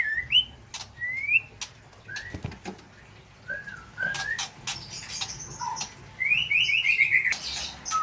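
Thin high chirps and short whistled calls from three magpie robin chicks in a nest come in scattered bursts, ending with a rapid trill, near and moderately loud.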